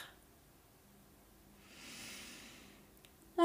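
A slow, deep inhale through the nose during a guided relaxation exercise, a soft close airy hiss swelling and fading in quiet, followed by the start of a voice.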